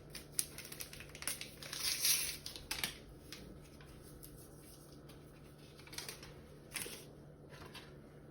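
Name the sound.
baking powder sachet being handled and emptied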